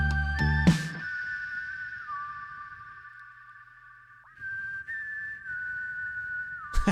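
A steady, high whistle-like tone holds a sustained melody line in a music mix over a soft synth backdrop, with a brief dip and a few clicks along the way.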